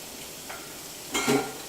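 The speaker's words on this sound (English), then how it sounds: "You hear a nice sizzle when you put your onions in." Onions hit a pan with a wooden or plastic spoon and a brief hiss of frying starts, a short burst of sizzle and stirring near the end after a quiet start.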